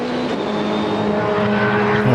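Supercar Challenge race cars thunder around the Zolder circuit, a loud, continuous blend of engines at full throttle with rising and falling pitch, running without a break.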